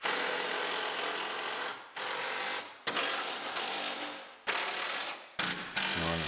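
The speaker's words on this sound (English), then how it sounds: "Just kind of move it where we need to and tighten it down." A hand ratchet tightens the bumper bolts on a 2015 Chevrolet Silverado Duramax, loud and close, clicking in steady runs broken by short pauses as the handle swings back.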